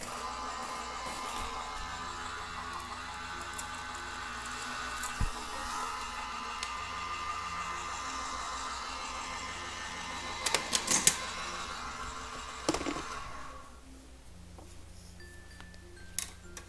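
A Gemini foil press runs with a Spellbinder hot plate, giving a steady motorized hum and whir with a few sharp clicks before the motor winds down near the end.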